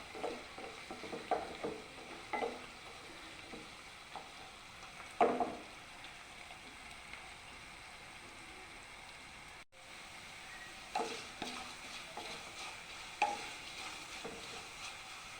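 Garlic and green chillies fry in oil for a fish pickle, giving a soft, faint sizzle with intermittent stirring scrapes and light clinks, quiet and close, briefly dropping out midway before resuming.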